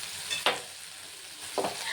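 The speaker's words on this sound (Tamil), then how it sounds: "இப்போ வெண்டைக்காயை நல்லா எண்ணெயில் நல்லா வதக்கி எடுத்துடலாங்க." Okra (ladies finger) sautéing in oil in a pan for a curry, a steady soft sizzle with two distinct scraping stirs about a second apart, fairly quiet and close.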